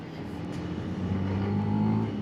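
A Benelli BN125 motorcycle engine buzzes steadily and rises slightly in pitch as it is rev matched around corners, a continuous moderately loud drone under wind rush, with no voice.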